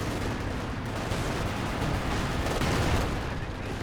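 Soviet artillery barrage in the strategy video game Company of Heroes, a dense, continuous rumble of blasts and crackling fire filling the whole stretch at high volume.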